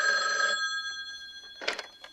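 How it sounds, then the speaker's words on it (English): A telephone bell rings in a horror film scene where a babysitter gets threatening calls from a stranger: one steady, harmonically rich ring, then silence, then a second short burst of ringing, fairly close and clear. "It concerns Jill Johnson, a babysitter who receives threatening phone calls from a stranger"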